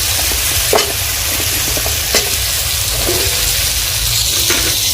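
Cut potatoes fry in a pan for khichdi, a steady close sizzle with a few soft stirring scrapes and clicks from the spoon.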